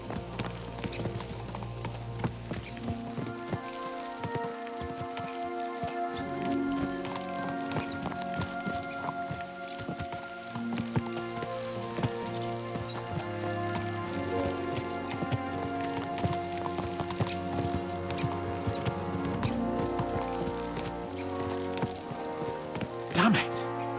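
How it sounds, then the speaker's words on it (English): Horses gallop with rapid, continuous hoof clip-clops in Kingdom Come Deliverance 2, close and steady under a music score, with a voice talking over them. "Let's really spur these horses on, eh?"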